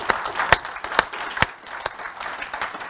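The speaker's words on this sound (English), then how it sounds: "Let's give them another clap." A small conference audience claps steadily for a few seconds, sharp individual claps standing out in a brief round of applause.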